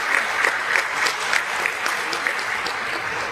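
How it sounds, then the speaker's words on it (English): Audience applause for panelists at a forum on women's financial inclusion and economic empowerment: a steady, moderate wash of many hands clapping with a few louder nearby claps, no voices. "We will give a big round of applause to our panelists."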